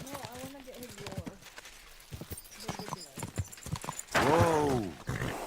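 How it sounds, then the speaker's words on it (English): Hooves clip-clop from a horse in the medieval video game Kingdom Come: Deliverance II, followed by a loud, close whinny near the end, with someone speaking over the hoofbeats. "What a beautiful horse!"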